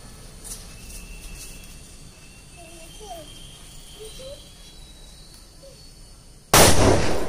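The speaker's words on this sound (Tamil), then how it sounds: "எனக்கு இந்த கிராக்கர்ஸ்லாம் பார்த்தாலே கொஞ்சம் பயம், அதனால் என் தம்பி வந்து இதை வந்து பர்ஸ் பண்ணி காட்ட போகிறாங்க" Diwali firecracker goes off outdoors: a quiet stretch of ambience with faint chirps, then a sudden loud, sharp burst near the end that fizzes on, sustained and broadband.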